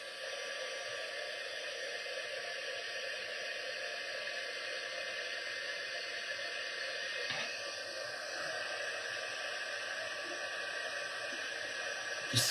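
A heat tool blows steadily to melt embossing powder on a handmade card, a constant close whooshing hum with a high whine that runs unbroken throughout.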